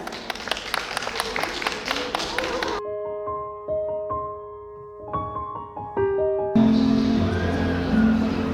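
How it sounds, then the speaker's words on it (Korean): At a spring poetry recital, the audience claps in a loud burst. The applause gives way to a quiet stretch of sustained piano-like tones, then swells again into a fuller wash of sound with voices. "큰 박수로 부탁드립니다."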